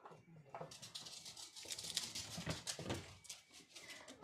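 Pet dogs are let out of a room in a home quilting workspace, with faint scrabbling paws, light patter and brief whimpers close by, amid rustling movement.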